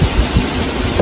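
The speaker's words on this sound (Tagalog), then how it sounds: "Lakas ng hangin." Strong wind buffets the microphone in a loud, rumbling roar with gusty low thumps, no voices.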